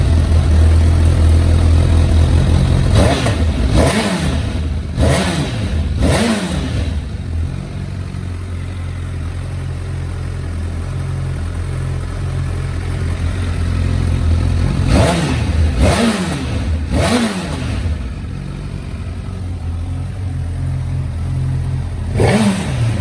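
A stationary Honda CB1000 Hornet motorcycle with a standard exhaust idles, then is revved sharply several times in two bursts, each rev rising and falling back to a steady idle.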